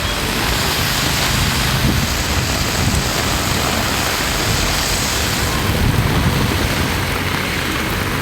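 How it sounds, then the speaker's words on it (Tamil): Heavy afternoon rain in Chennai makes a dense, steady roar of downpour across the whole span, loud and constant and with no voices. "சென்னையில் ஞாயிற்றுக்கிழமை காலை வெயில் சுட்டரித்த நிலையில் பிற்பகலில் கனமழை பெய்தது."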